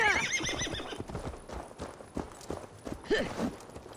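A horse in the video game Assassin's Creed Valhalla whinnies and its hooves clip-clop in a steady walking rhythm, with another neigh near the end.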